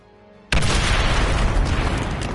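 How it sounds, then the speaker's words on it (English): A loud explosion erupts in the Marvel Midnight Suns video game after a brief quiet lead-in, its broad blast sustained as a dense roar to the end. "Crossbones should go out in this explosion"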